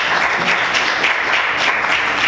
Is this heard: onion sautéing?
no